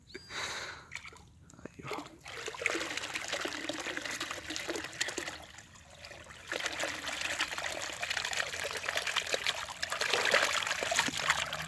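Water trickles and pours steadily as tilapia are released into a lake, a close, continuous splashing dribble with brief quieter dips.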